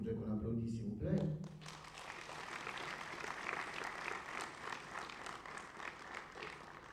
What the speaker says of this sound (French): que je voudrais qu'on applaudisse s'il vous plaît.